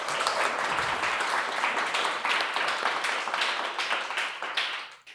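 Moderate applause from a panel discussion audience, a room of clapping hands that holds steady for a few seconds before tapering off.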